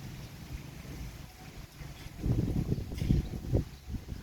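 Cold wind blowing outdoors, a low steady rush that swells into stronger buffeting gusts hitting the microphone in the second half.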